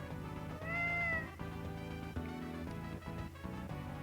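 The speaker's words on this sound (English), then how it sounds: "Now then, there's a cat over here." A cat meows in the RPG Maker game Arc Arath, a single clear, drawn-out meow heard alone over looping game music.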